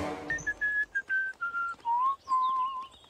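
A person whistles a tune in a cartoon comedy scene, a clear melodic phrase of several sustained notes stepping gradually downward, close and alone without talk.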